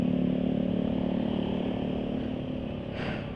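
Motorcycle engine idling steadily on Silkolene 20W50 oil, a continuous close mechanical drone with a faint tapping clatter, fading slightly toward the end.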